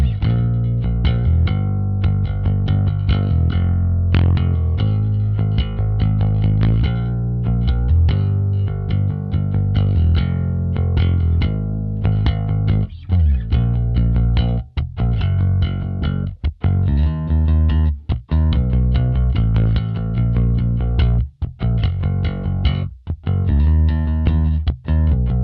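A 1974 Gibson Ripper bass guitar plays a steady run of distorted, throaty growling notes, loud and close with no one talking, broken by a few brief stops near the end.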